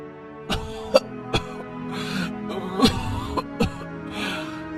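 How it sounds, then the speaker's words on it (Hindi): Several sharp, separate coughs ring out one after another at close range, followed by strained throat-clearing sounds. "ये कैसी खांसी है?"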